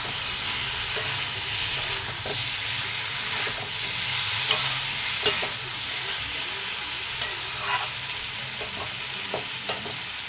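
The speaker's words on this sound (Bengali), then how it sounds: "এবার আমি ভেজে রাখা আলু পটলগুলো দিয়ে দেব। আবারও ভালো করে ভেজে নেব।" Fried potatoes and pointed gourd are tossed in a spice paste cooked down in oil, giving a steady sizzle with recurring scrapes and clacks of a stirring spatula, close and without talk.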